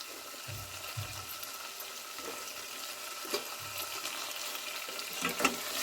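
Chicken pieces with meat masala sizzle steadily in a pan for chicken and potato korma, a constant frying hiss broken by soft thumps and scrapes of stirring.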